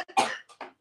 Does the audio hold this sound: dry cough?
yes